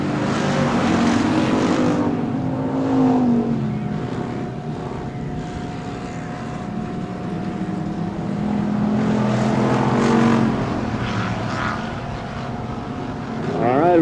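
Race cars at Texana Raceway Park roar past the start-finish line on a summer race night, a loud sustained engine drone that swells and fades as they go by, with an announcer talking over it.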